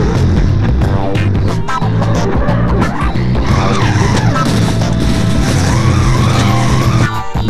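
Loud, sustained tire squeal as a drift bus slides sideways in BeamNG.drive, the screeching and engine noise running unbroken and close throughout.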